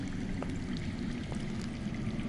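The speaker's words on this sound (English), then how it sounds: "That's water. I hear water. From underground." Underground water runs in a steady low rush in a Game of Thrones video game, with a few faint drips on top of the continuous flow.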